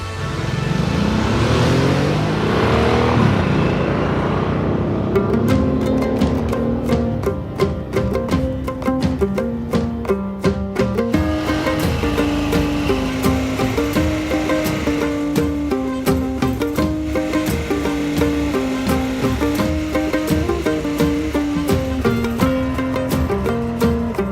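Harley-Davidson 2021 Sportster S motorcycle riding hard through corners, its engine note rising and falling steadily and loud throughout as the rider accelerates out of each bend, with no talking.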